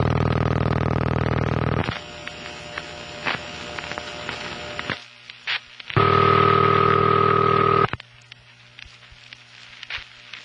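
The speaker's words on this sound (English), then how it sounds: "the ringing on my phone line, which is actually ringing my phone bell at this point, sounds as heard through my phone patch" A telephone bell ringing on a line served by a Bell System electromechanical step office in downtown Raleigh, heard through a phone patch: two long buzzing rings separated by a pause, with faint clicks and hum between them.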